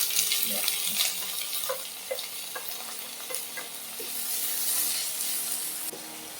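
Crushed onion, garlic, ginger and green chili are stirred in a hot pan, where a soft steady sizzle is broken by repeated spoon scrapes and taps against the pan at irregular intervals.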